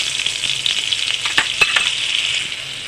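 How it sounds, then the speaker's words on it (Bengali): Butter sizzles in a little leftover oil in a pan where chicken has just been fried, for butter garlic chicken. A steady, close hiss runs throughout, with a few sharp spatters and stirring clicks and no talking. "এবার অল্প একটু তেল আছে, তার মধ্যেই দেখো বাটার দিয়ে দেবো একটু বেশি করে।"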